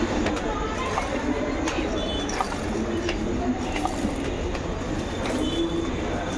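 A train pulls into a station with a continuous heavy rumble and faint wheel squeals, while people nearby talk over the din.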